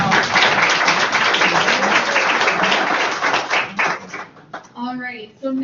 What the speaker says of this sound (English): I think it's appropriate time for an applause